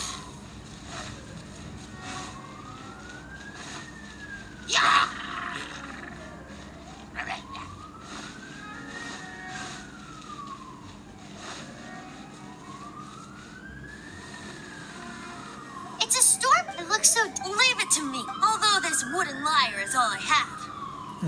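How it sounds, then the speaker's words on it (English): Emergency vehicle siren in a Genshin Impact story quest near a dragon lair sweeps up and down in slow, steady wails, loud throughout and joined near the end by busier clattering game sounds. "Ambulance."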